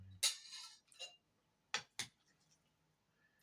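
A few sharp metallic clinks of a fork against a plate, spaced apart, close and crisp in an otherwise quiet room.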